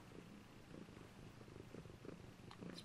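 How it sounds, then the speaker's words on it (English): A cat purring up close in a steady rumbling rhythm, continuous for the whole stretch with no other sounds. "He's purring like a motherfucker."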